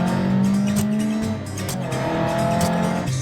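A Ford Escort Mk2, running low on power, pulls away loudly and close by with a rough revving engine and some tire noise, its pitch dropping briefly and then climbing again, with no voices.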